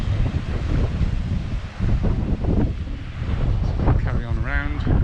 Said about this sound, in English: Watch the waves come in, crash against the rocks.